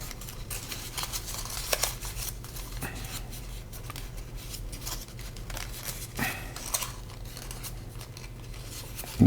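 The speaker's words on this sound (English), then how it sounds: "as you collapse the base in, reinforce all the folds" Paper being folded and collapsed into an origami Kawasaki rose, soft crinkling and scraping rustles with occasional crisp creases, quiet and close, no talking.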